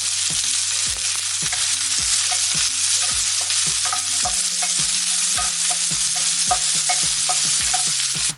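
Onion, dried chillies and curry leaves fry in hot oil for a Kerala bitter gourd curry, a loud, dense, continuous sizzle with faint repeated popping throughout and no talk.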